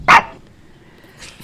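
A single sharp dog bark sounds close up at the start, followed by a faint low room murmur and a soft second noise near the end.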